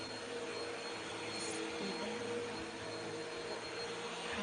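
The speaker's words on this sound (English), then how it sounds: "Should we wait until the vacuum's done?" A vacuum cleaner runs in a steady, unbroken roar, heard faintly and on its own with no voices.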